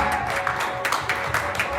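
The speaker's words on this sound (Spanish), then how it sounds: "Denle un aplauso fuerte a su Señor" A church congregation claps loudly and continuously during a worship service, the applause dense and close, with voices mixed in.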